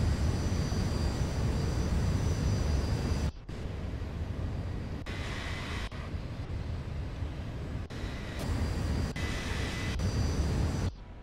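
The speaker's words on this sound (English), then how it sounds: "Nice takeoff, nice departure, nothing wrong with that." Steady, loud airplane engine drone during takeoff in a flight simulator, a continuous roar with a few abrupt cuts and level changes, no talking.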